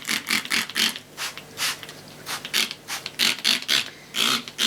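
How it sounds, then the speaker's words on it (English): A trigger spray bottle of multi-surface non-toxic kitchen cleaner fires a quick string of close, hissing squirts in uneven rapid bursts with brief gaps between them. "I've just got some multi-surface non-toxic kitchen cleaner. Just give it a quick squirt."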